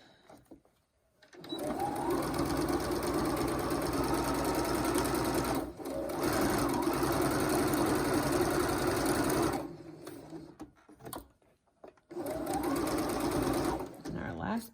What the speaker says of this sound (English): Now we're stitching over our third piece of elastic.